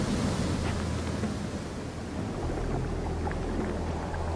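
A wave washes over everything in the video game Shelter, a broad, steady roaring rush like surf that holds for several seconds without pause.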